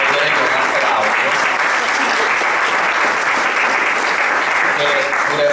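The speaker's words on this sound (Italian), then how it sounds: "che io insomma saluterei con un applauso" Loud, dense applause from a press conference audience welcoming Gianna Fratta, continuous clapping at an even level throughout with no pause.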